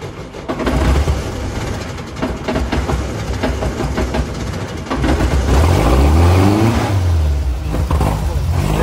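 A Volkswagen Beetle engine rumbles close by, its pitch surging and falling as it is revved repeatedly, with rough mechanical clatter throughout.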